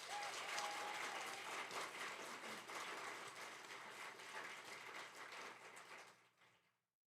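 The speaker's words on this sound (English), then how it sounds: "Let's have a hand and a round of applause for Daniel Sedgwick and the Del Norte High S" Applause from the audience at a college graduation ceremony in Del Norte, dense continuous clapping heard from a distance at a low level, fading out near the end.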